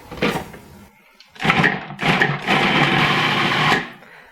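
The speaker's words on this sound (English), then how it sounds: "now I'm just going to chop it up nice and fine using the food processor" Food processor chopping peeled, quartered onion, several loud whirring bursts separated by short pauses, the last running longest.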